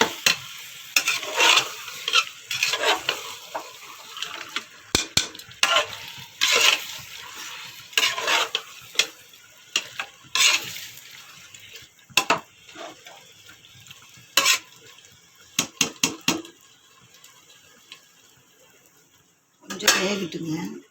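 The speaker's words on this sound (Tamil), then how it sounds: "இதை கொஞ்சம் நல்லா கிளறி விட்டு அப்புறம் அரிசி போட்டுக்கலாம்." A spoon scrapes and clanks against a pot while stirring mutton biryani masala, with sizzling underneath and irregular bursts of metallic scraping. A voice talks at points between the strokes.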